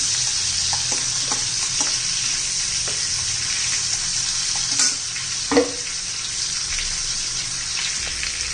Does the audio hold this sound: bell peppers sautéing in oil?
yes